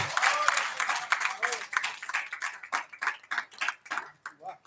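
Applause from the audience at a Hindi Diwas kavi sammelan poetry gathering, loud and dense at first, then thinning into separate claps that fade toward the end.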